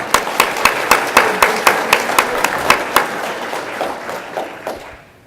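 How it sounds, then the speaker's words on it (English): A small audience at a project stakeholder workshop claps in a steady, even rhythm, sharp close claps repeating about four times a second before thinning out and fading at the end. "let's give them a round of applause."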